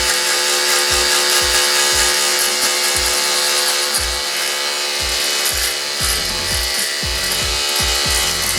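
An electric hair clipper with a 1/4 inch guard cuts a scraggly beard above the lip. Its close, steady buzzing motor hum is broken into repeated strokes about once a second, with no talk.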